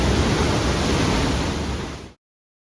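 Steady rushing water of a stream flowing underground in the Canadian Rocky Mountains fills the clip, a dense broadband roar that cuts off abruptly into silence near the end.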